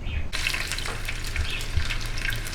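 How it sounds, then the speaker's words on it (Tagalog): Steady sizzling and crackling of pork ribs frying in hot oil, close and continuous, with occasional louder pops. "ipiprito na po natin"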